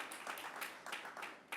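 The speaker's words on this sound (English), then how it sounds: "let's give a big round of applause to the Nibby family and Nibby contractors" Applause for the Nibby family and Nibby contractors at the grand opening and ribbon cutting of an affordable housing building, heard as a small, fairly faint crowd clapping steadily at a distance.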